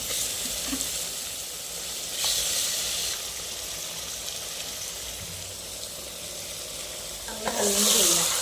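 Mutton frying in a pan while making biryani, with a steady hiss and sizzle throughout that swells louder briefly near the start and again at the end, along with a few faint clinks.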